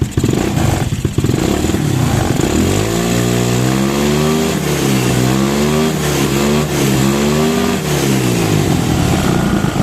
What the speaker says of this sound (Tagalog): Testing na natin mga ka-riders, paanda rin na natin yung motor